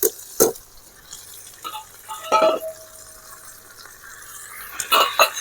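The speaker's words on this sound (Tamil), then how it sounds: "நல்லா அந்த குழகுழப்பு போகிற வரலையும் வதக்கிடுங்க" Okra being sautéed in oil in a pan for a Chettinad mandi, with soft intermittent stirring scrapes and a light sizzle, a few louder spoon strokes standing out against quiet kitchen background.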